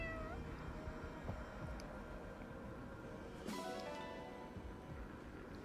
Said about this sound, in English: Why are there so many cats here in the mountains?